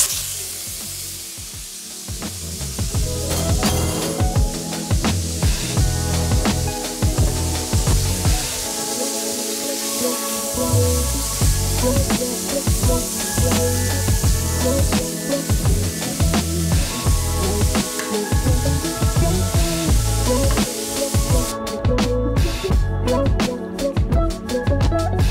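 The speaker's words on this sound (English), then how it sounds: "Now we're gonna add in our pound of ground beef, and this is gonna sizzle a whole lot." A pound of ground beef sizzles loudly and steadily in a hot pan, a dense continuous frying crackle with occasional spatula scraping and stirring, close up, with no talking.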